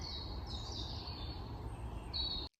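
Birdsong on a countryside nature walk: high thin chirps and warbling phrases drift in faintly over a steady outdoor hiss, with no talking.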